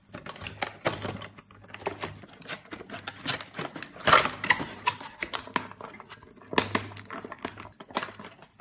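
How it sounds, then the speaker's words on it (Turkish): A boxed Inside Out Fear toy figure is unpacked, giving a run of close crinkling plastic and cardboard rustles and taps in irregular bursts, with sharper crackles at a few points. "Biraz korkak olduğu için öncelikle korku oyuncağını açacağım arkadaşlar."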